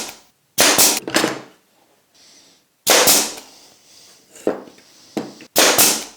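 A nail gun driving nails into wood while a beach hut bird box is built, giving four loud, sharp close bangs in an irregular rhythm, with quieter knocks and handling noise between them.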